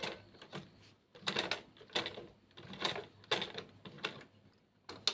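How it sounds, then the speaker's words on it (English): A sewing machine stitches fabric in short, rapid mechanical bursts separated by brief pauses, close and fairly quiet, with no talking. "So I'm going to start sewing."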